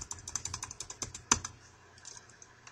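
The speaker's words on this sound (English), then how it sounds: "press the backspace button" Quick run of light key taps on a computer keyboard, as if repeatedly pressing backspace, ending in one sharper click, then a quieter pause; close and alone with no voices.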